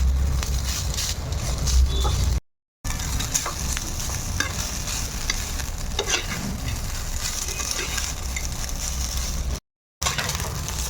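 Coconut rice stirred in a pan, giving a steady, loud, continuous scraping and sizzling texture close up, with two brief silent gaps and no talking.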